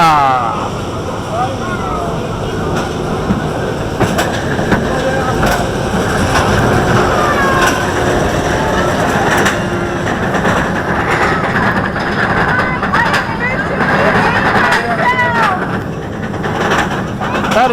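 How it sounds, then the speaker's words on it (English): Steady rumbling roll of a B&M roller coaster train at Busch Gardens Tampa, continuous heavy rattle and track noise close by, with people's voices over it. "We're going to take a ride on the classic B&M coaster,"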